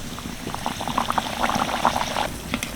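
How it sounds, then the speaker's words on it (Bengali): Pea kachori frying in hot oil, giving a dense, continuous bubbling and crackling close up, without any voices. "আরও একটা তেলের মধ্যে দিয়ে দিচ্ছি"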